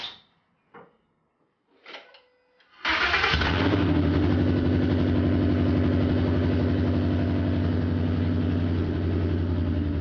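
A 1968 Ford F100 pickup with a swapped-in Coyote V8 cranks and fires up after a few faint clicks and bumps, then holds a loud, steady, close idle that rumbles on alone without a break.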